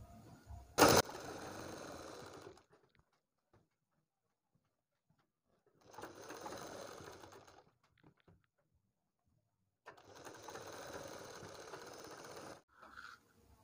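A sewing machine stitching a kurti neckline runs in three separate bursts of whirring, each a couple of seconds long, with quiet pauses between them and a sharp click near the start.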